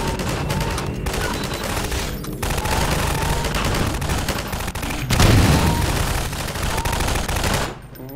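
Sustained gunfire from the video game Half-Life 2, rapid automatic bursts and heavy shots overlapping almost continuously, loud and close, ending with a brief drop-off.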